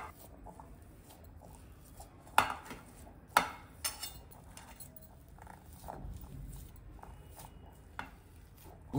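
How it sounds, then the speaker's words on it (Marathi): Boiled potatoes being mashed in a bowl for sabudana thalipeeth, with soft squishing and several sharp clinks and knocks of a utensil against the bowl, close and irregular, with no talking. "आता हे बटाटे आपण आधी कुस्करून घेणार आहोत, बारीक करून घ्यायचे"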